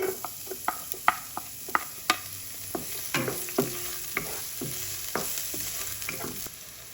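Garlic and shrimp fry in hot cooking oil with a steady close sizzle, while sharp scraping clicks from a utensil stir the pan every second or so.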